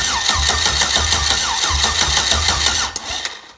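Starter from an early-2000s 5.3 or 6.0 liter LS engine cranking against the flywheel of a twin-engine 30-foot Bayliner, a fast rhythmic chugging whir that runs steadily for about three seconds, then cuts off with a couple of clanks.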